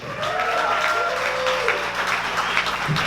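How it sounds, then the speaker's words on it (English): Audience applause at a motivational talk, steady dense clapping filling the room for a few seconds, with faint tonal hum and traces of voices beneath. "Let's give him a round of applause."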